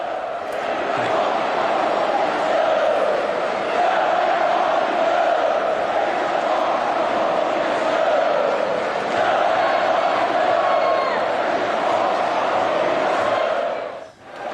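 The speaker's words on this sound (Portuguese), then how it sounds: "a gente pode ouvir o intervalo quando a torcida canta e vaia" Palmeiras supporters fill Allianz Parque at a football match's halftime with a steady, loud wall of crowd noise, mass chanting and jeering blending into one continuous roar that fades sharply at the very end.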